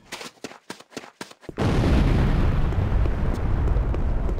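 A building explodes in Command & Conquer Renegade: a few short thuds lead into a sudden loud blast that roars and rumbles on, filling the rest of the moment without pause.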